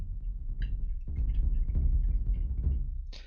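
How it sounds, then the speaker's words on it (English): Overlapping 808 bass notes in a beat played right next to each other smear into a muddy, droning low-end rumble, with faint higher blips over it for about three seconds and no talking. "it's going to get all muddy and sound like this when you play the 808 right next to each other."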